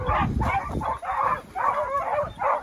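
Hunting dogs bark and yelp in repeated bursts during a wild boar hunt at the opening of the hunting season, loud and close with brief pauses between barks.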